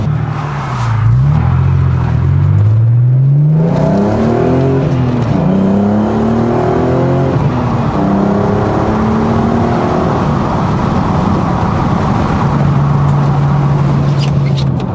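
A car accelerates through several gears, engine pitch climbing and dropping in repeated upward sweeps, then settles into a steady cruising drone with road and wind noise, loud and close from inside.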